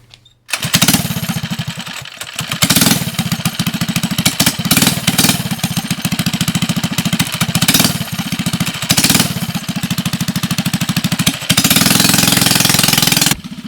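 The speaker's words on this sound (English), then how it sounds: "this is the first time running this without the muffler on. We're going to see how loud it is" Mini bike engine running with the muffler removed, a loud, harsh rapid popping rattle that starts up, surges and dips in revs several times, then holds a steady high rev near the end.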